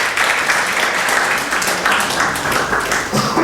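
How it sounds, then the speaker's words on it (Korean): Church congregation clapping to welcome a new member, a close, dense and steady round of applause lasting throughout. "박수로 환영하겠습니다"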